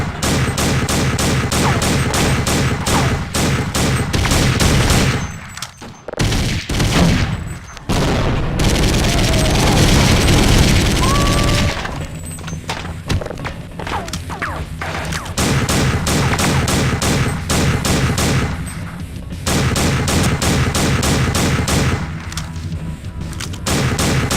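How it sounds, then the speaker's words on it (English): Squad automatic machine gun in Half-Life: Opposing Force firing loud, rapid sustained bursts with booming impacts, broken by a few short pauses, with no talk. "A squad auto machine weapon."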